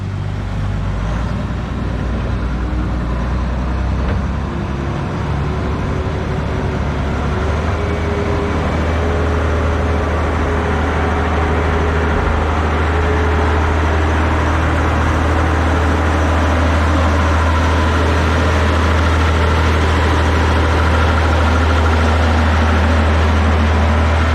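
Steady, loud diesel idle from a Fadroma loader fitted with a new engine after a general overhaul, a deep low throb holding even for the whole stretch on a dairy farm, with no talking.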